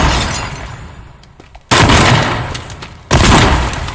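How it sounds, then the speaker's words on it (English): Shotgun blasts from the video game Teardown: two loud, sharp booms with crackling debris, each followed by a sustained noisy decay, spaced about a second and a half apart after a quieter lead-in. "my shotgun can take down a tree?"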